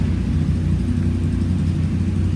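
Many motorcycles gathered at Hapao Elementary School in Ifugao make a steady, low engine rumble at moderate distance, a continuous blended drone without voices.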